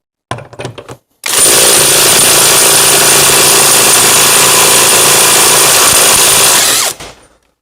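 Kamolee DTW500 cordless impact wrench on a 9 Ah battery, running in one loud, steady, continuous burst for about six seconds after a few short clicks and taps, close up with no talk.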